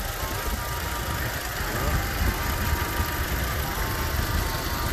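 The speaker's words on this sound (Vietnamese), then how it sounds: "máy nổ rất êm" A 2008 Toyota Innova G with a 2.0-litre petrol engine and manual gearbox idling, a steady, even low rumble heard close up, continuous and unchanging throughout with no speech over it.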